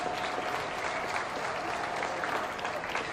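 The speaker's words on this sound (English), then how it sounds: "let's give them a big round of applause for making it this far" An audience at a beef cattle show applauds six junior showmen, a dense, steady patter of many hands clapping at a moderate distance that holds evenly throughout.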